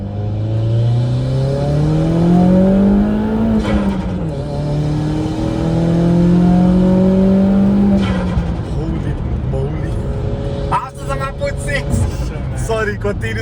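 Built Opel Astra 1.6 GTC engine pulling hard in second gear from about 2000 RPM, loud rising engine drone climbing steadily, briefly dipping at a shift, then easing off as voices talk near the end.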